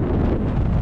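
Heavy wind buffeting a microphone while cycling uphill, a dense low roar that stays steady and loud through the short moment.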